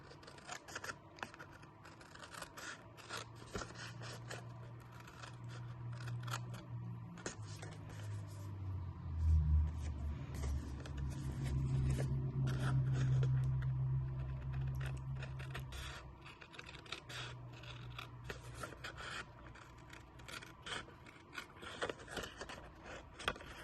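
Scissors cutting side sections off a piece of card for a small chapstick holder, steady close snipping and scraping over about twenty seconds with a low hum underneath, no talking.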